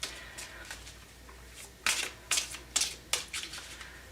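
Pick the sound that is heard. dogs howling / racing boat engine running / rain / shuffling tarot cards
shuffling tarot cards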